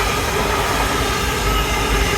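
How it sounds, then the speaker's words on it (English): A train rumbles steadily past near a seafront by the Teignmouth Inn at Dawlish, a loud, continuous roar of wheels and rolling stock with no talk over it. "Oh, train behind me, never mind."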